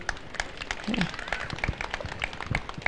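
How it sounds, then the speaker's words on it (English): An audience at a school annual day applauding the parents, dense steady clapping from many hands at moderate volume, with a voice faintly present. "So a big clap for yourselves."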